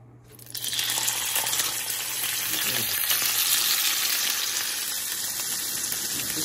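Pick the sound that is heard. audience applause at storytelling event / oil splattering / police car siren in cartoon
oil splattering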